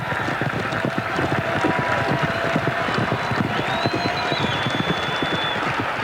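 Horses galloping at high speed in a confined space, a dense, continuous drumming of hooves, loud and close, with a faint whinny-like tone rising above it.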